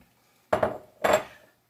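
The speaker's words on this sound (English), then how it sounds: "We'll go ahead and pour those in the blender." Two short wet clattering pours of mushy rose hips land in a blender one after the other, a soft sloshing thud each time, close by with quiet in between.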